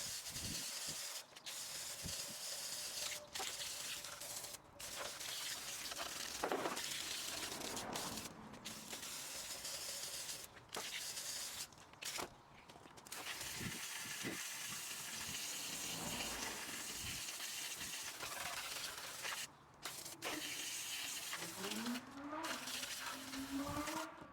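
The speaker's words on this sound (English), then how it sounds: "it was then out with the hosepipe to rinse off the chain" Hosepipe water spraying steadily onto the chain of a BMW S1000RR motorcycle, a continuous close hiss and splatter broken by short pauses, with faint background voices.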